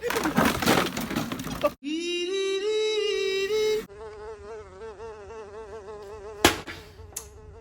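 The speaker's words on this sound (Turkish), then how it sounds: "Allah'ım ne çok sinek var ya." Flies buzz in a comedy sketch setting, a loud whining hum with shifting pitch that rises and falls, followed by a sharp crack or smack and a brief second hit near the end.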